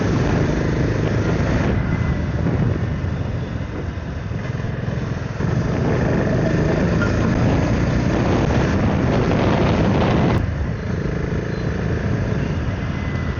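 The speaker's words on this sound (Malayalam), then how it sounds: "അത്യാവശ്യം റിഫൈൻഡ് ആയിട്ടുള്ളൊരു എൻജിൻ തന്നെയാണ് ഈ ഒരു ബൈക്കിൻ്റെ" A BSA Goldstar 650 single-cylinder motorcycle engine idles and runs steadily nearby with a low, throbbing rumble. Its revs rise and fall slightly, and no one speaks.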